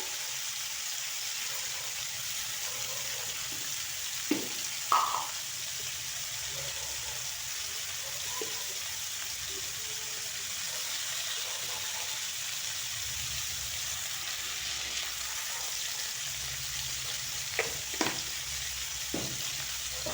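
Broccoli and vegetables fry in a pan with turmeric and salt, a steady close hissing sizzle throughout, broken by a few light clinks and stirring scrapes from a utensil.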